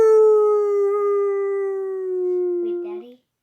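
A wolf's long, steady howl, loud and clear on one drawn-out tone that slowly sinks, with a second shorter howl joining briefly before both cut off abruptly.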